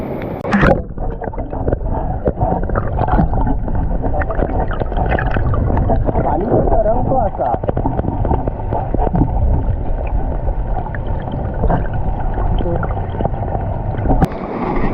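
Heavy monsoon rain in the Konkan countryside, a loud, steady, dense roar with rushing water that holds unbroken for the whole stretch, close and without talking.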